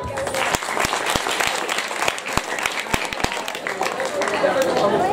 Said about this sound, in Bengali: প্রত্যেকে জোরে হাততালি দাও।